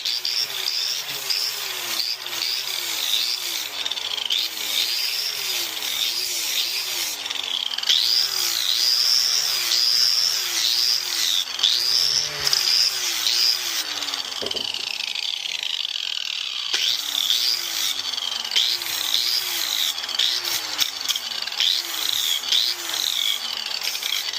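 A power tool grinds a metal steering column bracket, giving a steady high whine with rhythmic rising pitch sweeps as pressure shifts, a brief break near the middle, then grinding resumes close and continuous.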